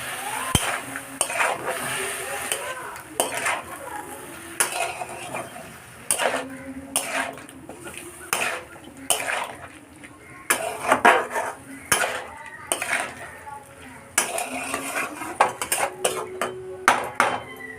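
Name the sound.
stirring spices with water in a pot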